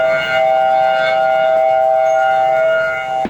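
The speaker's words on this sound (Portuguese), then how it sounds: "As sirenes soaram primeiro no Havaí" Hawaii tsunami warning siren wailing loud and steady, one sustained tone held for a few seconds before cutting off abruptly, no voices over it.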